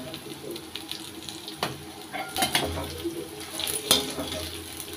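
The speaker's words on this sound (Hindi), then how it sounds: "इसे हम मिक्स कर देंगे।" Spices are stirred into ivy gourd in a pan, with scattered metallic clinks and scrapes of a utensil against the pan over a soft background hiss, some louder knocks near the middle.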